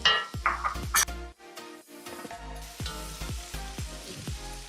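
Dry macaroni tipped into a pan of sautéed vegetables, a brief clatter of pasta followed by steady close sizzling and occasional scraping stirs, with no voices.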